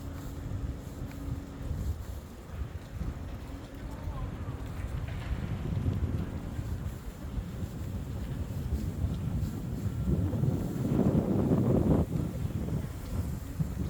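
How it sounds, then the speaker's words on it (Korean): Strong wind roars and buffets the microphone on a barefoot walking dirt trail, a steady low rumble swelling louder near the end; no clear speech stands out. "바람 소리가 이렇게 세네."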